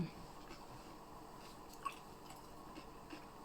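Fresh raw shrimp and whole chili peppers being eaten close up, soft quiet chewing and squishy bites with one crisp crunch near the middle, faint and steady.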